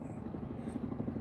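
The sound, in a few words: CH-47 Chinook helicopter flying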